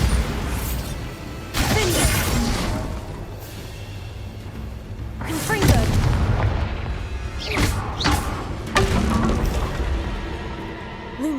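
Repeated Bombarda explosion spells in Hogwarts Legacy go off as loud, booming blasts with crackling debris, several bursts spread over a dense, continuous game soundscape.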